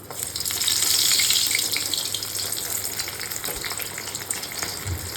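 Sabudana vada (sago fritters) slide into hot oil and fry, a dense continuous sizzle that swells in the first second and then holds steady up close, with faint clinks and no speech.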